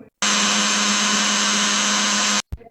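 Electric mixer jug grinding ginger and garlic into paste, a loud continuous high-speed whir that starts abruptly, runs steadily for about two seconds, then cuts off with a short clatter after.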